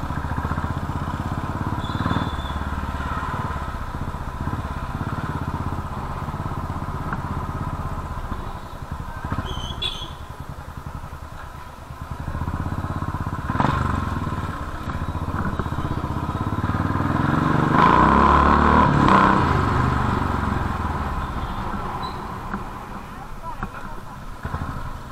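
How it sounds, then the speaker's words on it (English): A Royal Enfield Bullet motorcycle's single-cylinder engine thumps steadily on a ride, with wind rush and a rise in revs partway through, and people talk over it. "Damn, this bike is damn good, bro."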